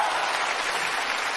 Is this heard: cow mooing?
no